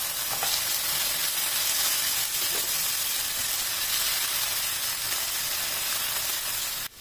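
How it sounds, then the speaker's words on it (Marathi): Tomatoes fry in oil in a pan for paneer bhaji, giving a steady, close, even sizzle that runs unbroken for the whole stretch and cuts off abruptly at the end. "टोमॅटो आपल्याला व्यवस्थित तळून घ्यायचे आहे"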